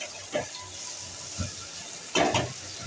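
Cut potatoes sizzle and fry with spices in a pan, with a steady soft crackle broken by a few louder bursts of stirring and spattering, close and without voices.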